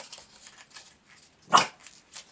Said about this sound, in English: My dog, you can hear him, he's afraid of the tripod that the camera's sitting on, so he's going to be growling at it.